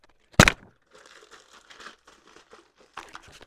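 A sharp scissor snip opens a package of colored contact lenses, followed by soft crinkling and rustling of packaging handled up close.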